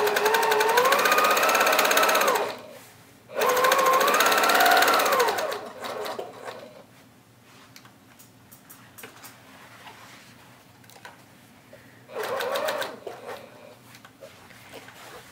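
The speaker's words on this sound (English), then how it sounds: "I'm going to stitch around this box" A sewing machine stitches around a box shape with a stitch length of 2 in three loud bursts: a long run, a brief stop, another long run, then quiet handling before a shorter final burst.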